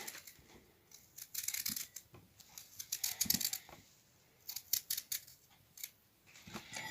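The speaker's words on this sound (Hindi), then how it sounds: "मूली के भी ऐसे पीसेस काट लेंगे हम।" A knife cuts radish into pieces for a mixed vegetable pickle, giving soft, quiet, irregular chopping clicks in short clusters with pauses between them.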